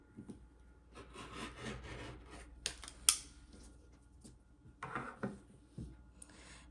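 A rotary cutter trims the selvage off folded quilting fabric on a cutting mat, making soft, close, intermittent rolling and scraping strokes at low volume with no voices.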